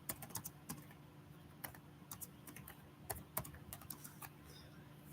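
Rapid, uneven clicking of keys on a computer keyboard during a live NFL helmet card break stream, with short bursts of fairly close keystrokes and no talking.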